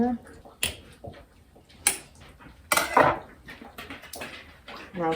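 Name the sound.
tapping a jar of pickles to knock out air bubbles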